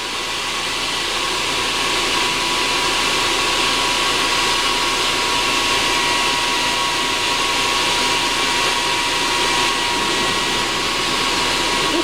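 A 35-year-old Eberspacher diesel heater, salvaged from a skip and set up in a van, runs with a loud, steady roar of blowing air that holds constant throughout.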